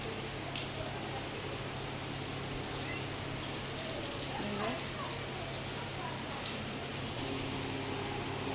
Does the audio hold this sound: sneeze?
no